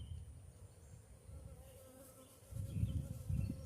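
Honeybees buzz steadily around an opened beehive during an inspection, a low droning swarm that swells louder toward the end, close by and without talk.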